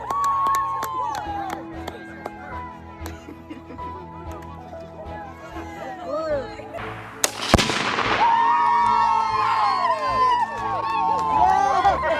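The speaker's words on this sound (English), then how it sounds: "After blowing up the Tannerite, we ended up getting a fire." Tannerite explosion in a field at a gender reveal, a single sharp blast going off midway after a countdown, with people talking and calling out before and after it.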